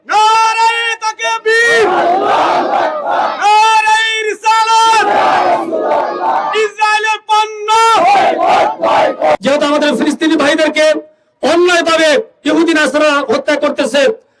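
At a pro-Palestine rally in Uttar Tarabunia, Sakhipur, Shariatpur, a leader shouts slogans and a large crowd roars them back in loud rhythmic call-and-response, voices surging in repeated bursts with brief pauses.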